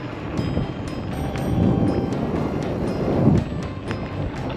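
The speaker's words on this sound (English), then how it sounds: "It might be a bit windy" Steady wind buffeting the microphone during an e-bike ride, a low rumbling roar that swells and fades with no voices.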